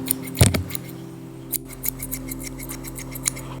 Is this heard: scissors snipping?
yes